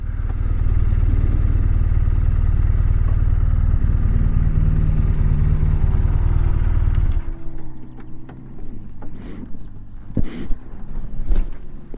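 A 2009 BMW R1200RT motorcycle ridden two-up, its engine and wind rumble loud and steady for about seven seconds, then dropping away to quieter idle and scattered clunks.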